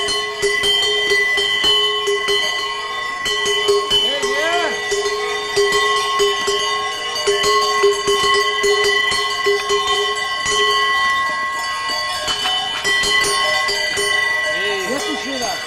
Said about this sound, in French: On lui a mis une cloche quand même.